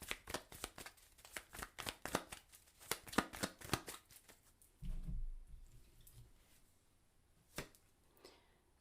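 Tarot cards are shuffled by hand in rapid crisp riffling bursts, close and fairly quiet, followed by a soft thump and a few scattered card snaps.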